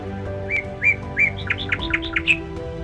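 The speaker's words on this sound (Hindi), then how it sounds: "पूरे जंगल में पक्षियों की मधुर चहचहाहट सुनाई दे रही थी" Songbirds chirp in a forest, with a rapid series of bright, close tweets and whistled notes rising over a soft, steady background hum, and no voices.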